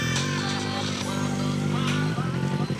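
A motorcycle idles in a traffic jam, its engine a continuous, fairly close buzzing hum with layered tones that wavers slightly toward the end, alone without speech.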